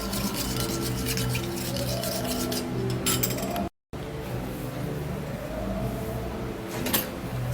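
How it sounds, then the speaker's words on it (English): A homemade skin-care mixture is stirred in a container, giving a steady scraping, rubbing sound close by. It pauses briefly near the middle, then carries on. No speech is heard. "And now I would have to give it a stir."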